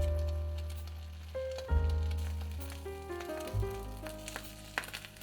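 Beaten egg sizzles in hot lard in a ladle as the skin for egg dumplings forms, a steady close frying hiss over soft background music.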